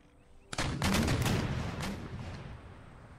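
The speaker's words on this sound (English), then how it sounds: "These guys firing round shots, so we'll get some good kills" Round shot fired from cannon in Empire Total War, Poland-Lithuania side: a single sharp loud report followed by a rumbling volley of further blasts that roll on and slowly fade.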